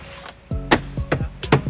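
Plastic fasteners are tapped into holes in the body of a 2010 Toyota RAV4 during trailer wiring installation. Four or five sharp, close knocks come in quick succession, and a faint voice is heard underneath.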